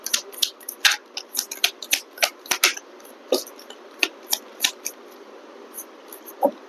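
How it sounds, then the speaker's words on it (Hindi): A final shuffle of a tarot deck, with sharp, close card snaps and slides coming in quick bursts at first and then spacing out into single flicks, with no talking. "एक फाइनल शफल हम करेंगे"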